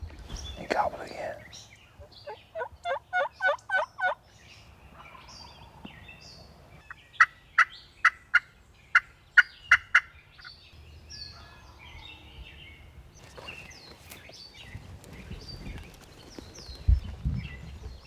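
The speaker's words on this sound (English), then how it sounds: "He gobbled again." A wild turkey gobbles repeatedly during a spring hunt in Wisconsin woods, with rapid rattling bursts coming in several clear volleys at moderate distance, with soft whispering and quiet rustling between them.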